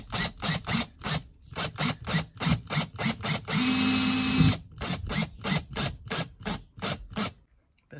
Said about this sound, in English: So I put it in my drill driver.